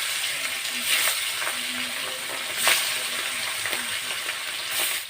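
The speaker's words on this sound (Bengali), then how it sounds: "এবার মাছ ভাজবো, তাই প্রথমে সাদা তেল দেব।" Pangas fish frying in white oil in a wok, a steady close crackling sizzle with occasional louder pops and spatters throughout.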